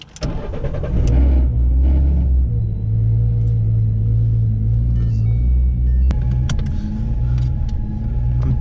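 A supercharged car engine starts and settles into a loud, deep rumbling idle-to-light-throttle drone, close by, with a few clicks and clanks over it and no talking.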